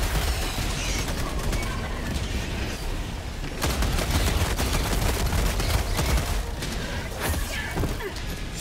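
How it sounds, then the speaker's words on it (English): Walking barrage in Helldivers 2 (video game): a dense, continuous roar of explosions and blasts rolling on for several seconds, loud and sustained with sharper bursts mixed in, no talking. "Oh, that's a walking barrage."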